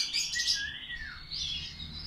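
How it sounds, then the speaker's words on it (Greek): Tame caged birds, two white and one grey, chirp and tweet in quick, bright bursts close by, with a steady low hum underneath and no voices. "Ωραία πουλιά."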